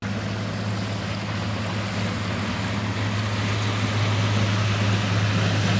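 A motorboat heads out near Airlie Beach with a low, steady engine drone under a broad wash of wind and water. The drone grows slightly louder toward the end.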